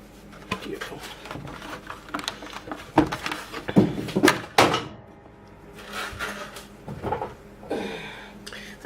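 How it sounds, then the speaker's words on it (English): A bar drops out of a mold and hits the floor with a sharp thud, set among scattered knocks, clatter and handling noises at close range. "That sound you heard was one bar falling out of the mold"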